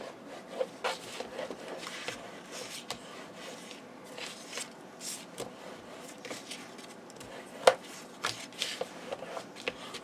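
Paper being burnished onto a Stamperia Casa Granada 6 x 6 card album, heard as close, quiet rubbing and scraping strokes with a few sharper taps, steady throughout.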